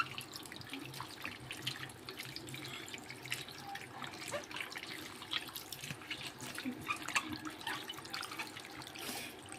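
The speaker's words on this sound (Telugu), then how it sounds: "వాష్ చేసుకోవడం అయిపోయింది" Running tap water splashes into a sink while something is washed, a continuous close trickle with uneven splashes and drips, no talking.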